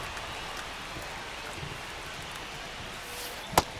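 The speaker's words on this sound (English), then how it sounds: "It really feels like we might be running out of time before a rain delay is called. This rain is not letting up." Steady rain falls on a baseball stadium during a game in the video game MLB The Show 25, a soft even hiss that continues throughout, broken by one brief sharp click near the end.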